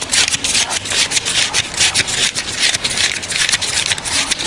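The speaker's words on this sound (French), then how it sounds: "Ce bruit des billets que compte Alexandre dans le bureau voisin le confirme" Banknotes being counted by hand in a neighbouring office, a steady run of quick, close papery riffles and rubbing flicks lasting throughout, with no talk.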